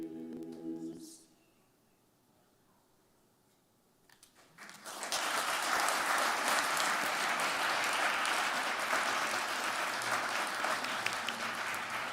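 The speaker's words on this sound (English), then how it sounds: "Let's give them one more round of applause." Loud, sustained audience applause at a city's State of the City 2022 address, rising after a quiet pause and continuing as dense, steady clapping to the end.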